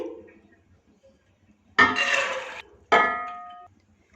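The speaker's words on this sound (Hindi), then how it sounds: "एक पैन में चने की दाल ये डाल देंगे" Dry chana dal poured into a pan for mutton shami kabab, two separate bursts of rattling grains, the first longer and the second shorter with a ringing metallic tail, close and moderately loud.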